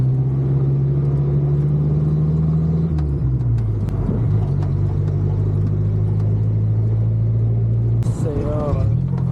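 A car drives through the streets of Baghdad, its engine droning steadily inside the cabin with a shift in pitch partway through, while people talk over it.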